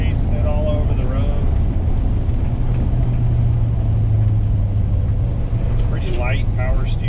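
A 1969 Dodge Coronet 500 with power steering and manual drum brakes drives along a road, its engine giving a steady low rumble throughout while someone talks over it.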